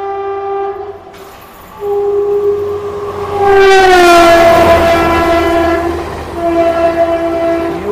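Yuva Express train passing on electrified track with a loud sustained horn, multi-tone blasts rising over the rumble of the passing wagons, close by.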